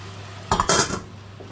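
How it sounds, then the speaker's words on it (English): Pasta being stirred into a cheese sauce in a pan for mac and cheese: a brief, close burst of utensil scraping and clatter against the pan lasting about half a second, then quiet. "And I'll just stir this all together."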